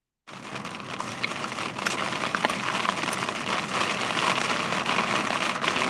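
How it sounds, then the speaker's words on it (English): Heavy rain with hard, big drops during an Oklahoma tornado storm chase, a dense, crackling hiss that starts abruptly and holds steady and loud throughout. "The rain sounds crispy, doesn't it, Kev?"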